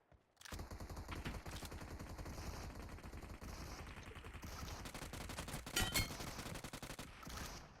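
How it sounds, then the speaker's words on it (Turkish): Rapid bursts of DBS shotgun gunfire in the PUBG Mobile battle royale game, loud and continuous, with dense overlapping shots and a sharper volley near the end and no talking. "Adam DBS'i uzaktan headshot çekmeye çalışıyor."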